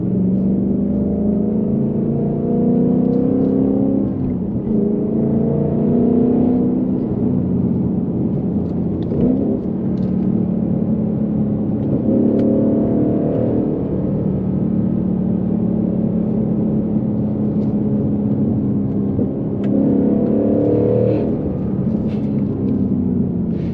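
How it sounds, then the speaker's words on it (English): Engine of a 2021 Ford Mustang Mach 1 revving under load while driving, a steady loud low roar with rising and falling pitch, near and continuous with no talk. "Motor just sounds angry. Just sounds pissed off,"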